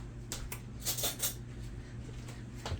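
A spoon is pulled from a drawer of cutlery in a home kitchen, giving several bright metallic clinks and rattles close by, with short quiet gaps between them.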